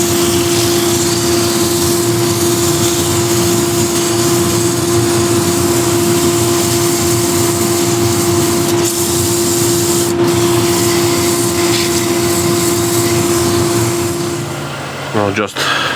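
A wooden bowl being sanded with 180 grit paper on a lathe: a loud, continuous rubbing hiss with a steady motor hum beneath, winding down in the last couple of seconds.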